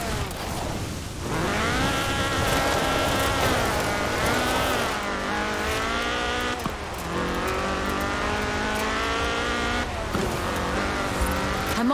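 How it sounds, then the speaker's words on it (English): Ford RS1800 rally car with a fuel-injected 1790cc Cosworth BDE engine in Forza Horizon 4, revving loud and close with rising and falling pitch through gear changes, a brief lift around seven seconds, then sustained high-rpm roar. "a car designed explicitly for rallying, with a powerful, fuel-injected 1790cc Cosworth BDE engine"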